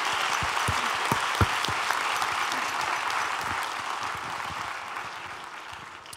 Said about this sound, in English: Let's give a round of applause to all of them now.